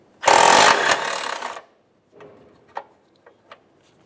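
A 10mm socket on a wrench works loose a ground strap on a 2007-2013 Acura MDX, with a loud grinding burst of about a second followed by a few faint clicks and taps.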